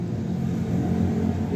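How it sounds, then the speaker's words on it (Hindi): A car wheel hub with a worn, loose bearing is turned by hand, giving a continuous low humming rumble close up, steady throughout. "हब का बेरिंग जो है बेसिकली ये उसकी आवाज़ है। ये देखें ठीक है घुमाने से आती है"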